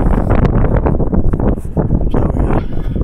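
Strong gusts of wind buffet the microphone outdoors on a rooftop, a loud, rumbling roar that swells and dips without pause.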